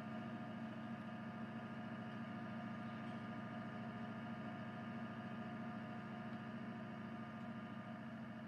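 A tractor engine idles steadily and close by, a continuous low mechanical rumble with a constant drone and no pauses throughout.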